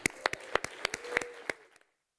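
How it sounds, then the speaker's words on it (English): A small audience claps for speaker You Mon Tsang, a thin scatter of distinct handclaps heard at a distance. The clapping fades out within two seconds. "So everybody, give a round of applause for our friend"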